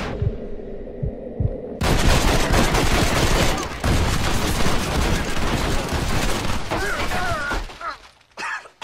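Dense, sustained gunfire from federal agents' rifles and pistols in the video game Red Dead Redemption, a loud continuous volley after a quieter low throbbing opening, tapering off near the end.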